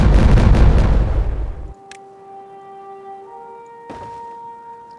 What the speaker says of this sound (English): we can press detonate all that